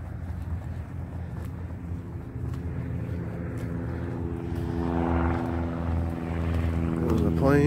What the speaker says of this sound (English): Plane taken off.